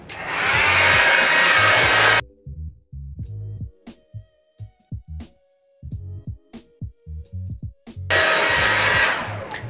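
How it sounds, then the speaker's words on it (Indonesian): A hair dryer blows hard and steady during hair styling, shuts off for several seconds while clicks and handling noises fill the gap, then roars back on at full strength. "jangan lupa untuk ganti hair dryer ke setting dingin"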